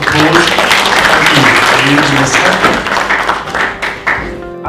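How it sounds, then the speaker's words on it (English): An AI Summit audience applauds a presentation with loud, dense, continuous clapping that runs the whole clip, while a voice speaks over it. "Let's give them a round of applause."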